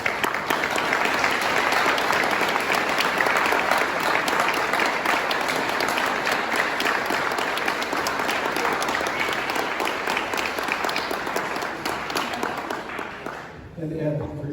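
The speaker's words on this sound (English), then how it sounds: "Would you please stand so we can give you a round of applause." An audience gives a long, loud round of applause for military veterans standing at a ceremony, a dense, steady wash of clapping that tapers slightly near the end.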